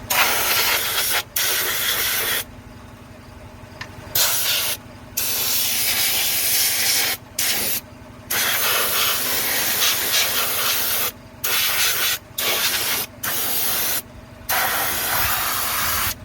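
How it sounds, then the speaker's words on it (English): Loud hissing spray in long bursts with brief pauses between, close and continuous: lanolin-based rust-prevention undercoating sprayed onto exposed metal under a Toyota Prius. "I'm just spraying everything. Everything metallic, exposed."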